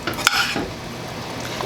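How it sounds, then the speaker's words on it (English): Shredded cheddar-style cheese stirred into a hot one-pot cheesy chicken pasta bake to melt, a steady sizzle with a sharp spoon scrape against the pot early on, then continuous bubbling and soft stirring, close and fairly loud. "So I'm just going to stir this in so it starts to melt."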